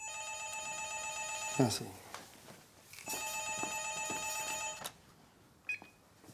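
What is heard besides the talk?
telephone ringing in a film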